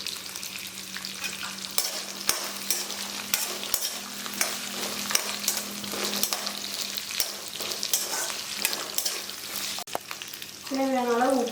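Ginger frying in hot oil in a pan while cooking a mushroom gravy, a continuous close sizzle broken by regular spoon scrapes and clicks against the pan.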